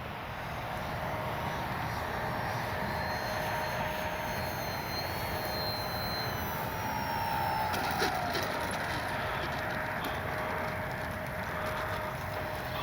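An E-flite Sportix RC airplane drones steadily overhead at half throttle, a continuous faint motor whine with a slight rise partway through and no voices.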